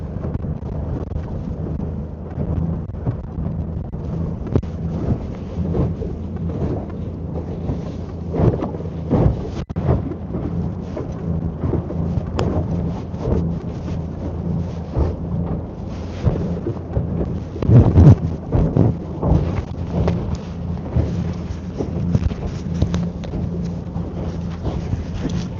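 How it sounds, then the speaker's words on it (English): Brisk wind gusts buffet the microphone on a lake while fishing from a boat, a rumbling, uneven roar that swells and dips throughout, moderately loud and with no talking. "that wind just picked up nice and brisk here."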